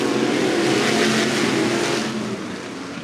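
Limited sprint cars roar together at Cottage Grove Speedway, a loud sustained engine snarl of the pack under green, easing slightly toward the end with no talk.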